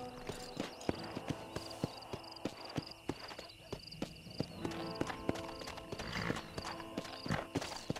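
Horse hooves clip-clop steadily in the Western video game Red Dead Redemption, a regular rhythm of close, crisp hoofbeats over a scored ambient backdrop, with a brief whinny-like note and no talk.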